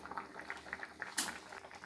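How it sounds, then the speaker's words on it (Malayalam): Fish curry simmering in a pot on a kitchen stove, a faint close bubbling with soft irregular pops and one brief brighter splutter, quiet and alone. "അപ്പോൾ നമ്മുടെ മീൻകറി തിളച്ചുകൊണ്ടിരിക്കുകയാണ്."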